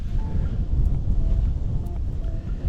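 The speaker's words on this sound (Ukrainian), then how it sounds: "Три дні дує сильний вітер." Strong, steady wind by the Southern Bug river during a fishing trip, buffeting the microphone with a continuous low roar and no voices.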